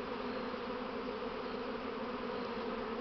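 A swarm of honeybees hums in a continuous, even buzz, faint and somewhat distant, with no voices over it.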